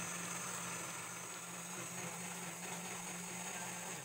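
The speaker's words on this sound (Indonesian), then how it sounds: "Lalu blender sampai halus." A blender grinds pandan and suji leaves with water, a constant whirring motor drone with a steady hum, fairly faint and unbroken throughout.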